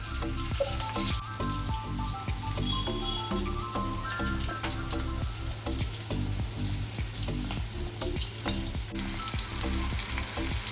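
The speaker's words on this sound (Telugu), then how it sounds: "ఇలా ఫ్రై చేసుకోవాలండి ఒకవైపు ఫ్రై అయినాక మళ్ళీ రెండో వైపుకు ఫ్రై చేసుకోవాలి" Bitter gourd pieces fry in oil in a kadai, giving a continuous bubbling sizzle with crackling pops throughout and a steady low hum underneath, with no speech.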